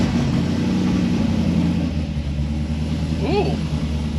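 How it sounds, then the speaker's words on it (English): Chevrolet Corvette drift car starting up on its first fire and settling into a loud, steady, throaty rumble, with a short rising rev near the end and voices faintly underneath. "Ooh, that really sounds like a Corvette now."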